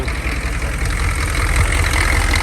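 A diesel engine idles steadily up close in a Ford GPW, a loud low knocking rumble with a regular clatter throughout.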